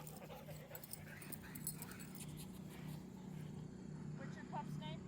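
A happy dog gives soft whimpers and a few high yips close by on a farm, mixed in with people chatting and a low steady rumble of background noise.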